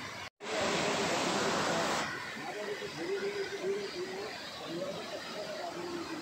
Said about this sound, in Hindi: मुक्तेश्वर के पास है ये झरना और इसकी जो ठंडी ठंडी फुहार आ रही है